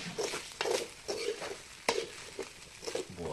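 Leftover cooked rice with chilli powder being stirred in a frying pan, a spoon scraping through it in short irregular strokes over a soft sizzle, close and fairly quiet, with no talk.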